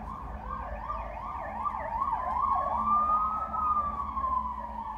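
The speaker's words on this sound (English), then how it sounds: "That is the police cars." Police car sirens wailing in a continuous rising and falling pattern, fairly loud and steady throughout, with more than one siren overlapping and sweeping up and down.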